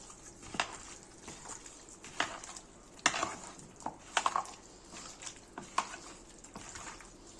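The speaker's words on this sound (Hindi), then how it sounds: "इसमें अदरक लहसुन का पेस्ट पीसा है वो मिला देंगे" Ginger-garlic paste, fennel and garam masala are stirred into butter chicken in a pan, with a spoon scraping close up in irregular strokes over a faint sizzle.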